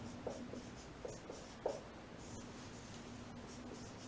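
Pen writing by hand on paper during a Sanskrit grammar lesson, a few soft scratchy strokes in short bursts over a steady low background hum, close and faint, with no talking.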